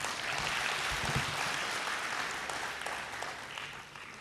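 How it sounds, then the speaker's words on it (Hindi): An audience in an auditorium at a poetry recital in Mount Abu breaks into steady applause for a poet, a dense wash of many hands clapping at an even level throughout, tapering slightly at the end. "एक बार मेरे राजीव भाई के लिए शानदार ताली।"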